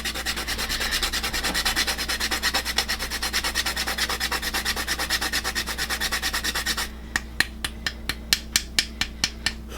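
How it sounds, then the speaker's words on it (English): Whole fresh nutmeg is rubbed against a fine grater in fast, steady rasping strokes, close and loud, then slows into distinct, evenly spaced scrapes near the end. "Now I have a fresh nutmeg. I'm going to give this a healthy grating without grating my finger."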